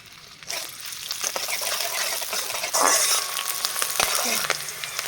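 Sliced onions hitting hot oil in a home kitchen pan while making Bengali dhoka, a loud steady sizzle and crackle of frying that swells as they go in, with occasional stirring clinks and no talk.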